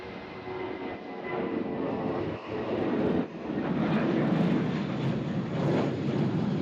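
A Spirit Airlines airliner arriving at Nashville International Airport gives a loud, steady jet roar that swells and holds throughout, heard from nearby with no voices.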